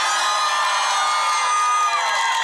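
Crowd at an outdoor karaoke show in a town square cheers and whoops for a contestant, a steady dense roar of voices and shouts held at constant loudness throughout.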